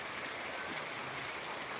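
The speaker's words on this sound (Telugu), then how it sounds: "దాదాపుగా మనకు ఫైవ్ మినిట్స్ అవుతుంది వర్షం స్టార్ట్ అయ్యి" Steady, dense rain hissing continuously in Karimnagar district, India, a broad even wash of falling water with no voices.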